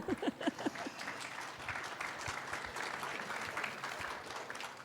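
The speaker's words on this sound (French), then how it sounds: "je crois qu'on peut vous applaudir" An audience at an opening ceremony claps steadily for about five seconds; the dense applause sounds soft and fairly distant, opening with a few sharper individual claps.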